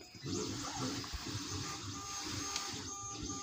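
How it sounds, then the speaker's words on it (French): A 3D printer prints a replacement part for a Fendt 815 tractor, its stepper motors whirring and buzzing in a busy, continuous close pattern with shifting tones. "Donc voici la pièce en train de s'imprimer."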